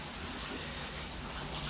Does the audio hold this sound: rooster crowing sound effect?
no